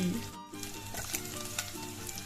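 Ginger garlic paste and chopped cabbage sizzling in a pan for late-night fried rice, a soft steady sizzle close by with a brief gap and light stirring scrapes.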